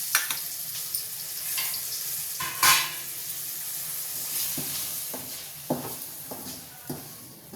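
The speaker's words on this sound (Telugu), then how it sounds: "రెండు స్పూన్లు వేస్తాను నెయ్యి. పిండి ఫ్రై చేసుకుని" Ragi flour frying in two spoons of ghee for ragi payasam, a low steady sizzle broken by occasional spoon scrapes and light clinks against the pan, close and quiet with no speech.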